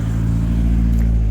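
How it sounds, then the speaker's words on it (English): A car rumbles steadily close by on a road crossing a nature preserve hiking trail, its low engine drone filling the whole moment without pause. "We'll go after this car passes."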